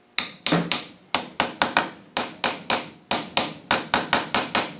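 A hammer tapping a part onto a Salisbury axle: about twenty sharp metallic knocks in quick irregular bursts of two to four, close and loud in a quiet workshop.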